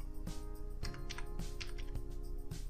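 A password is typed on a computer keyboard as a handful of spaced, distinct key taps, about five clicks over a few seconds, quiet and close against a faint steady background hum.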